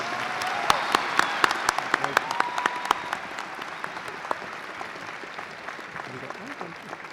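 Steady applause from a sizable crowd at a university psychology commencement, dense clapping with sharp individual claps standing out, gradually thinning toward the end.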